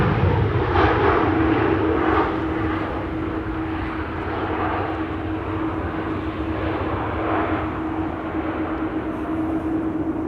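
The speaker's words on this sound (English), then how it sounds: "Saudia flight 215 arriving from Jeddah with Jeddah Nights on board." Saudia Boeing 787 Dreamliner arriving at Amsterdam Schiphol from Jeddah, a steady loud jet engine roar with a constant whine held throughout, no voices.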